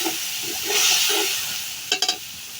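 Fried onions in a pan hiss and sizzle loudly as a little water and spices go in, the burst of steam swelling then settling, followed by a few quick scraping stirs near the end.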